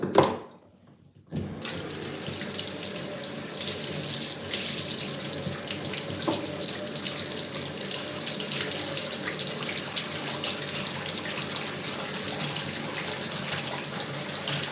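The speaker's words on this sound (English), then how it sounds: "It's like a chemical, so you want to wash your hands." Water from a sink tap runs in a steady, close rush as hands are washed clean of a chemical during a foot-care routine. A brief quiet moment comes before the flow starts, and no one speaks.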